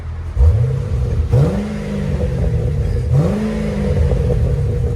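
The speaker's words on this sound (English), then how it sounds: "That's when you rev it up." A Pontiac G8 GT with a 6.0L V8 and deleted muffler revs hard twice, each blip rising sharply then settling back to a loud, rumbling idle, close to the exhaust with no talking.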